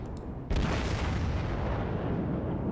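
Battleship main guns fire a salvo in World of Warships, the Ishizuchi, a sudden heavy boom that rolls into a long, loud rumbling wash of low noise after a quieter start.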